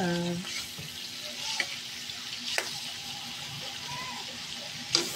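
Garlic sizzling in hot oil for chilli garlic shrimp, a steady close frying hiss with occasional stirring clinks, a brief voice heard at the start.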